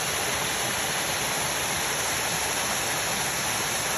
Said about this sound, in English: And they have all these waterfalls.